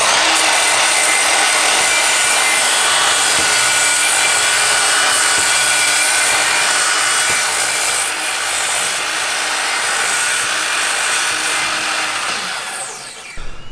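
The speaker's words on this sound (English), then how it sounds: "We're getting the miter saw set up to the right angle based on the angle finder." A miter saw cuts wood outdoors during construction of a large staircase on a hillside, giving a loud, sustained grinding whine that runs unbroken for many seconds before tapering off.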